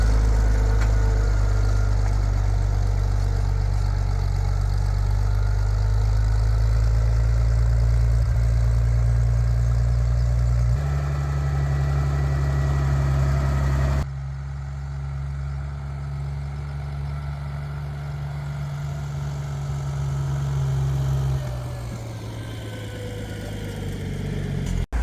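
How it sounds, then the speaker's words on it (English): A tractor engine running steadily while driving back and forth through a garden, a loud low drone that shifts pitch a few times. "where I drive with my tractor, where my tracks are"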